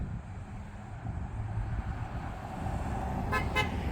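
A low rumbling of a train passing steadily through town, with two short horn toots near the end.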